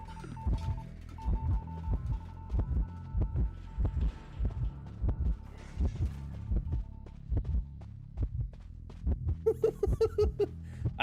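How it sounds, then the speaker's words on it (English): A steady, rhythmic heartbeat effect from the Identity V horror game thuds in regular double beats throughout, with a low hum underneath and brief tonal game sounds near the end. "I do like the heartbeat sound"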